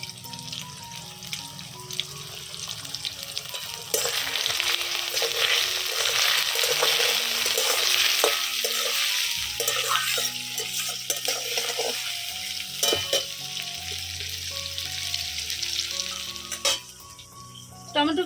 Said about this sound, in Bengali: পেঁয়াজ টমেটো ভাজার জন্য দিয়ে দেবো সামান্য নুন